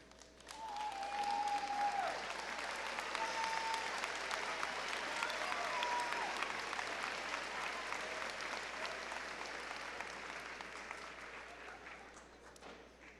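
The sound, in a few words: applause for students receiving honors awards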